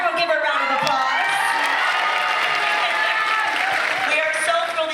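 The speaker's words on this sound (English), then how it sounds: "Everyone give her a round of applause." A crowd claps, cheers and whoops at a fan event in Liverpool, loud and continuous for five seconds, with excited shouts rising over the dense applause.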